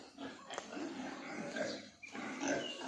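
Pigs grunting and snuffling on a farm, a steady low chorus of oinks and rooting noises that continues throughout, close by and moderately loud.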